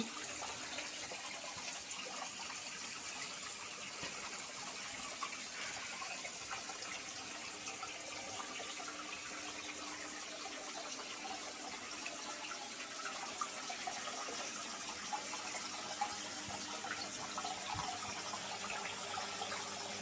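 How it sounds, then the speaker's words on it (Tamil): Steady, full-band rush of a waterfall, constant and unbroken throughout with no voices, moderately loud and close. "இது தண்ணீரால் செய்யப்பட்ட அருவி"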